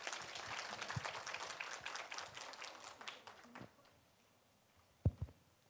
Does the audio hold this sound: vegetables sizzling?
no